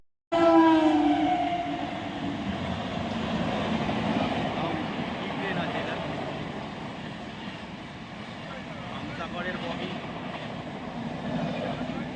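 A Shatabdi Express chair car rolls from Howrah toward Puri, its steady wheel and carriage rumble filling the space, with a brief whistle-like tone at the start and a voice talking over the continuous running noise.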